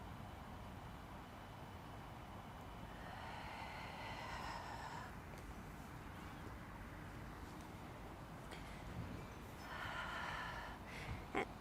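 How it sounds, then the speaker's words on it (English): Slow yoga breathing in a quiet room, two long airy breaths drawn in through the nose and let out through the mouth, soft and close over faint background hiss. "Inhaling through the nose, maybe exhaling through the mouth."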